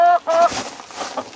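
Noisy hens in a backyard coop let out a couple of sharp, close squawks, then fainter clucking and rustling trail off.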